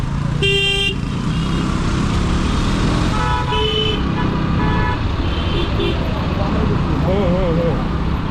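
A jammed city road in Dhaka, heard from inside a car, carries a steady rumble of engines and traffic. Car horns toot in short blasts near the start and again midway, while people in the car talk throughout.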